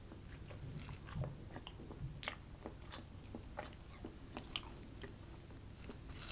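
Close, quiet crunching bites and chewing of Carbonaut low-carb vegan keto bread, soft irregular mouth sounds with no talk.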